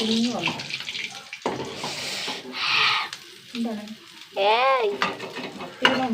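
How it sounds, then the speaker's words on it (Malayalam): Sardines fry in hot oil with a steady crackling sizzle, broken by clattering and stirring noises, while voices talk over it close by. "സൂപ്പർ മത്തി അതും കൂടി വറുത്തെടുക്കട്ടെ കേട്ടോ"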